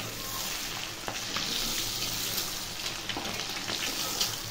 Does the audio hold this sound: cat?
no